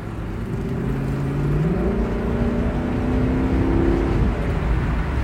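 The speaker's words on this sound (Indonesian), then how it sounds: "Kita injek gas, tapi masih di mode normal." A Lexus accelerates as the gas pedal is pressed in normal drive mode, its engine note climbing in two smooth rising sweeps under a steady, fairly close cabin hum, with no talking.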